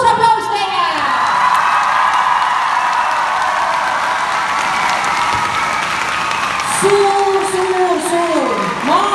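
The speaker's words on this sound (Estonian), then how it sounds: "Suur aplaus teile!" Audience applauding and cheering at a dance school's winter concert, with sustained clapping, whoops and crowd voices throughout, and a voice rising near the end.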